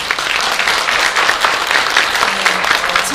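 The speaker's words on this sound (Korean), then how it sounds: "다시 한번 큰 박수 부탁드립니다." An indoor audience at an international forum claps steadily and loudly, a dense, continuous round of applause from many hands throughout.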